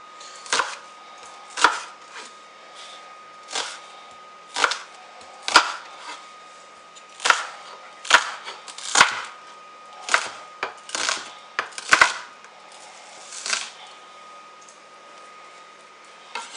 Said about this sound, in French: je vais découper un poivron rouge et un poivron vert